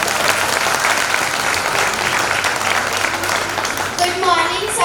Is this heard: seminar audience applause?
yes